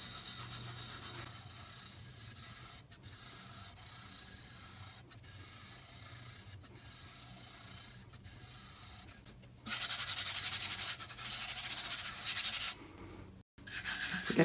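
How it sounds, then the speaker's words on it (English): Two or three fingers rub and burnish glitter onto a tack-it tumbler, a continuous close dry scratching with regular short strokes that grows louder and coarser in the last few seconds. "2 or 3 fingers and burnish thusly"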